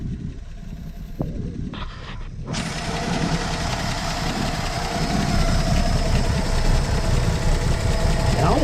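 Slant 6 engine of a 1966 Dodge Coronet running at idle after adjusting the valve lash, a steady low rumble that settles in after a few clunks and grows slightly louder, with people talking over it.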